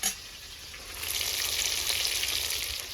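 Pieces of a large silver carp fry in hot oil, a dense, continuous sizzle that swells louder after the first second and stays close and steady, with no voices.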